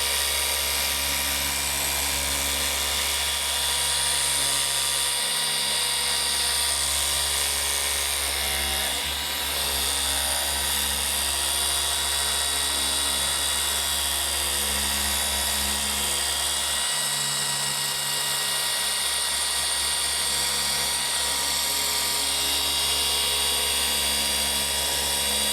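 A polishing machine spins at about 4,400 RPM on a BMW M2 CS, giving a loud, steady, high-pitched whine with a low hum beneath it for the full length, with no talking.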